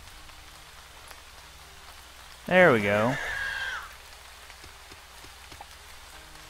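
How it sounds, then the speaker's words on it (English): Rain in the Starbound video game, a soft steady patter held faint in the background while someone speaks briefly over it. "it's raining"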